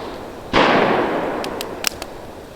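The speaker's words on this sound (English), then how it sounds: "people show up to shoot somewhere right next to me after I'm already here" A single gunshot booms in Capitol State Forest and its echo rolls away for about two seconds, loud and reverberant, followed by a few faint sharp clicks.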